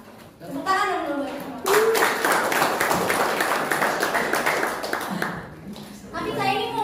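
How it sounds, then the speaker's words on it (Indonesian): Applause from a classroom of students during a biology lesson, a dense burst of clapping lasting several seconds, with talk before and after it. "Tepuk tangan dong dulu."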